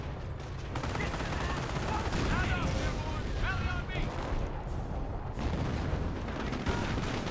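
Artillery barrage in the Company of Heroes 1 battle game, a dense continuous rumble of blasts and gunfire filling the whole stretch at steady loudness, with a commentator talking over it.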